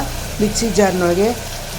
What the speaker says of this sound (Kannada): 2 ಆಲೂಗಡ್ಡೆಯನ್ನು ಸಣ್ಣದಾಗಿ ಹೆಚ್ಚಿ ಇಟ್ಕೊಂಡಿದ್ದೆ, ಅದನ್ನು ಕೂಡ ಹಾಕಿ ಚೆನ್ನಾಗಿ ಫ್ರೈ ಮಾಡ್ಕೊಳ್ಳೋಣ